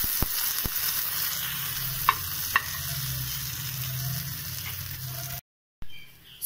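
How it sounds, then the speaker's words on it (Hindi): Potato-stuffed semolina appe cook in an appe pan with a steady, low sizzle, a few sharp clicks near the start and middle, then a brief silence before the sizzle returns. "आप देख सकते हैं मैंने अप्पे पैन में सारे अप्पे डाल दिए हैं"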